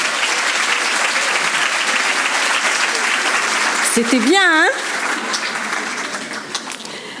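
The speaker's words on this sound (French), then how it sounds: "On peut les applaudir encore une fois, s'il vous plaît." Audience applauding at a school fête, a loud continuous wash of clapping with a voice cutting in briefly partway through as the applause carries on.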